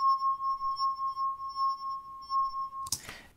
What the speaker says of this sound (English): I just spent about half an hour recording wine glass samples